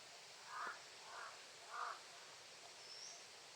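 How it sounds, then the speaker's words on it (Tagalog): Three harsh crow caws spaced about half a second apart, moderately distant, followed by a faint higher call over a quiet outdoor background. "Papalapit yung uwak dito."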